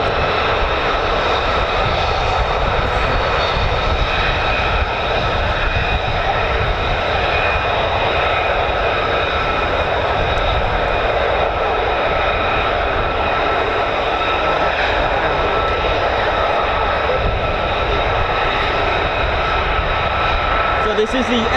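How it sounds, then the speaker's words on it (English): A Lockheed F-35A fighter jet at RAF Lakenheath holds a steady, loud engine roar with sustained high whine tones throughout, continuous and unbroken for the whole stretch. "So this is the F-35A."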